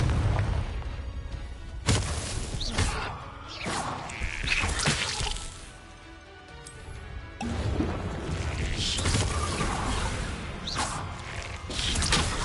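Confringo explosive spell in Hogwarts Legacy, a series of crashing blasts and whooshes over about twelve seconds, loud bursts separated by quieter stretches, no talk.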